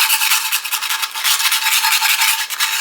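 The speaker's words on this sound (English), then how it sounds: "you're just going to start scraping this pan" A metal scraper drags across a pan during a freezer, fridge and pantry cleanout, giving a steady, close, continuous rasping scrape with rough rhythmic strokes throughout.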